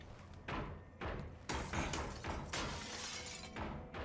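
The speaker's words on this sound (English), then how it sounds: "I did not realize that you could break this glass." Glass shatters in the video game Wolfenstein: The New Order, a series of sharp crashing breaks and impacts in quick succession, loud and close.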